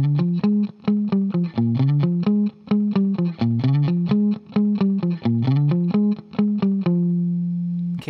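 Electric guitar plays a distorted riff: about twenty punchy, evenly rhythmic picked notes, loud and close, ending on one sustained ringing note.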